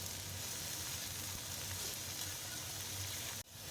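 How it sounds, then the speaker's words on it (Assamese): Small potatoes frying in oil for a jackfruit curry, a steady dense sizzle that holds at an even level throughout before cutting off abruptly near the end. "মই এতিয়া ইয়াতে সৰু আলুগুটি কেইটামানো দি দিছোঁ একেলগে এয়া। আৰু এইখিনি দি এতিয়া ভালদৰে অকণমান ভাজি থাকিম।"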